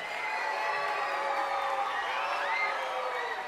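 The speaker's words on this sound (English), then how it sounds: "And round of applause for our fourth grade orchestra" A school concert audience claps, cheers and whoops for a fourth grade orchestra at a middle school spring music program, a sustained roomful of applause with a few shrill shouts rising above the clapping.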